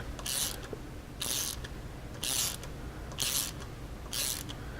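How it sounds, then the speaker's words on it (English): A bolt turned by hand with a ratchet, cutting thread into a UHMW plastic skid plate on a Polaris RZR 900, five evenly spaced crisp clicking bursts about one second apart, close up over low background hum. "just start turning it until it catches and cut the thread"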